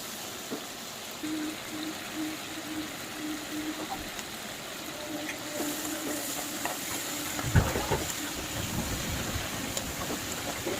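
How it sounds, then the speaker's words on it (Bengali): Shrimp frying in hot oil gives a steady, faint sizzle that persists throughout, with occasional stirring clinks and scrapes from a utensil in the pan. "দেখো চিংড়ি মাছটা আমার ভালো করে ভাজা হয়ে গেছে"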